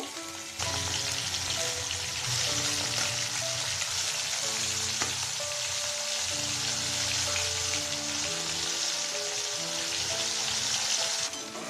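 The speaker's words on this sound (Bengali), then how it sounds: "কড়াইতে দিয়ে দেবো তেল এবারই তেলের মধ্যে দিয়ে দেবো হলুদ লবণ মাখানো আমদি মাছ মাছগুলোকে খুব বেশি না হালকা করে ভেজে নেব" Amudi fish coated in turmeric and salt fry in hot oil in a kadai, a dense, steady close sizzle with light crackles running throughout, no talk.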